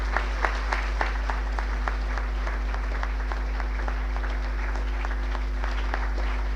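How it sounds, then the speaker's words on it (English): A room full of diners at a club celebration dinner give a sustained round of applause, dense steady clapping from many hands with a constant low hum underneath. "I think they deserve a particularly loud round of applause"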